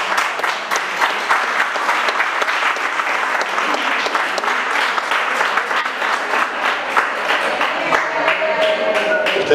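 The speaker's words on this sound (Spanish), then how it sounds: "para quien les pido un fuerte aplauso" Applause from the audience at a Lions Club art exhibition in Caseros, many hands clapping in a loud, dense, continuous patter with individual claps popping out, a faint voice surfacing near the end.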